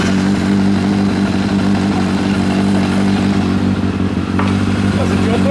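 A 1990 Kawasaki ZZR1100 motorcycle engine runs loud and close, a steady rumbling idle with slight revving throughout, while people talk over it.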